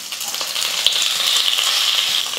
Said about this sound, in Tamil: வெங்காயம், கருவேப்பிலை, பூண்டு, வரமிளகாய் எல்லாமே பாருங்கள் நல்லா சூப்பராக நல்லா வறுந்து வந்துருச்சு.